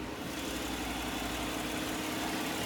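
4.3-liter V6 engine in a 2015 Chevrolet Silverado 1500 Double Cab runs at a steady idle, producing an even, unbroken hum heard close up with no voices.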